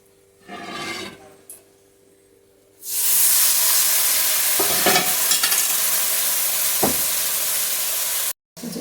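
Spices cook in a pan with a little water for a vegetarian chana dal curry with potatoes and paneer. A few quiet stirs come first, then a loud, steady, close-up sizzle bursts out and continues with occasional scraping strokes.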